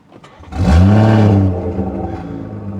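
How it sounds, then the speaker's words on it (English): A BMW engine fires up with a sharp rising rev that settles into a steady idle, aggressive exhaust burbles crackling through the rumble, close and loud. "So you can hear the burbles are a bit more loud."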